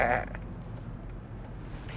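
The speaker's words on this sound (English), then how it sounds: "Look at the little tiny lambs." Little lambs bleat in a short, high call at the start, followed by quieter ambient farmyard noise.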